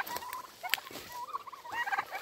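Turkeys out on an evening walk gobble in quick rattling bursts, several birds calling close by in overlapping, warbling calls with no talk.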